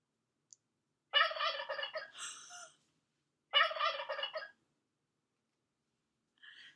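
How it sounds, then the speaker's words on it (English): A turkey gobbles twice, each burst a rapid, bubbling rattle, with a short pause between them and a faint call trailing afterward. "It's a turkey."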